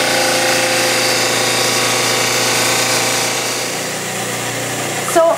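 A dental lab model trimmer grinding a stone study model, a loud steady motor whine with abrasive grinding that eases slightly as the cut finishes, close and alone.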